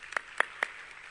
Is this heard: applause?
yes